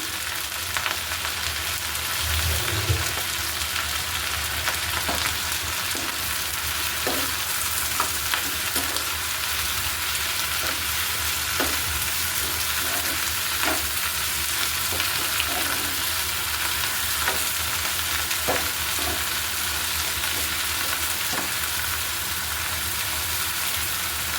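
Pennywort (thankuni) leaves fry in a pan for a mashed bhorta, giving a continuous close sizzle broken by occasional light stirring clicks, with no voices.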